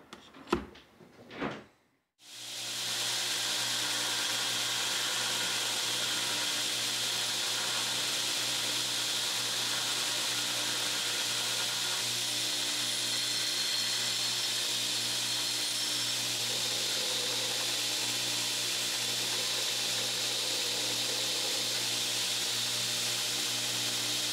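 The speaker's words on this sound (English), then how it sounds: "get on the 2x72, clean up the profile a little bit, go ahead and grind in these bevels" A 2x72 belt grinder grinding bevels on a forged 1084 steel kwaiken knife blade, starting with a couple of knocks, then spinning up into a loud, continuous abrasive whir that holds steady.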